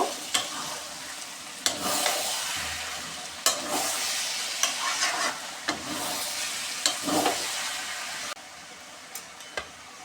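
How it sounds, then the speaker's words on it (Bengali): Tomato sauce stirred into chicken frying in a pan, a steady close sizzle broken by repeated scraping strokes of the spoon at irregular intervals, quieter toward the end, with no voices. "এটাকে নেড়ে মিশিয়ে দিব"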